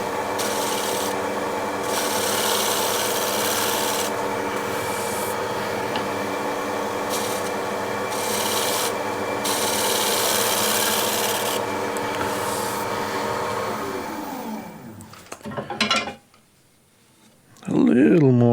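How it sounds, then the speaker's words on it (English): Shear scraping across wood with a hand scraper, a steady close rasping rub sustained for most of the stretch with brief pauses between strokes, ending in a few scuffs and handling noises; a voice talks over it. "So I'll just shear scrape that a little more."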